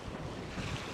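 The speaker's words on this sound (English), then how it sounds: "It's very windy out here on the beach." Strong wind roars continuously across a microphone on Coney Island beach, with a dense, rumbling buffeting and possible surf blending underneath, loud and unbroken with no voices.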